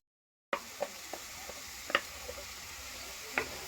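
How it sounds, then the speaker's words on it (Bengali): Blended mango paste cooks in a wok, giving a soft, low sizzle after a moment of silence, punctuated by a handful of light taps and scrapes from occasional stirring. "কড়াই চাপিয়ে নিয়েছি, আর কড়াইয়ের মধ্যে কিন্তু আমি মিক্সিতে পেস্ট করে রাখা আমটা দিয়ে দিলাম।"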